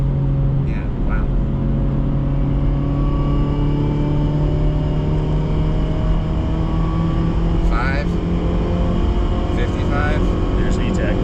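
A 1992 Honda Accord wagon with a swapped F20B engine pulls steadily under acceleration with a smooth, sustained drone heard from inside the car, with brief voices over it.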